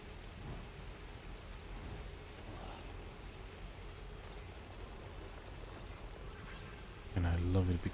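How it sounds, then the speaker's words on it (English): Steady, heavy rain and rumbling thunder from a thunderstorm in the video game Death Stranding fill the whole scene as a constant noisy wash, with a louder, deeper burst near the end. "I love it because the whole storm doesn't bother me at all."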